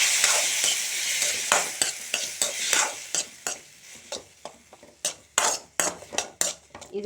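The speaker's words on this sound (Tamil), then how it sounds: "அதுக்கப்புறம் தக்காளியை நல்லா வதக்கணும்." Onions and tomatoes sizzle steadily in a pan for sambar while a utensil stirs and scrapes against the metal in repeated sharp strokes, close up.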